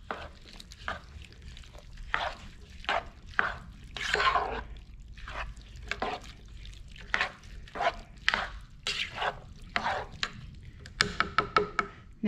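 A spoon stirs three-can chili ingredients in a pot, making a string of wet, clicking and scraping strokes in an irregular rhythm, loud and close, with quieter gaps between.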